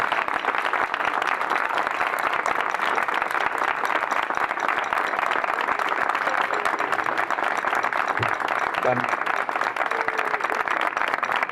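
Long, steady applause from a crowd at an outdoor commemorative ceremony by a monument, dense, continuous clapping at moderate distance with a few faint voices and whistles mixed in.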